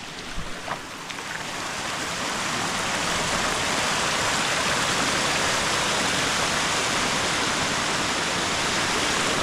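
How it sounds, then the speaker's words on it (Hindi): Rushing mountain stream water in a Himalayan village area, a loud, steady broadband roar that builds and holds, near and continuous, with no talk over it. "थोड़ा सा आपको दिखाते हैं यहाँ पे पानी"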